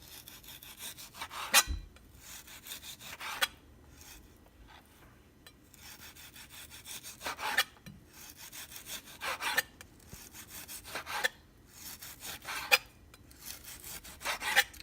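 A knife slicing beef thinly, with repeated scraping strokes in an irregular rhythm, close and fairly quiet, with no talk.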